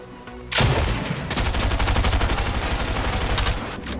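Gunfire in the video game Fortnite, with a sharp, loud crack giving way to a dense, sustained barrage of rapid shots that runs for about three seconds.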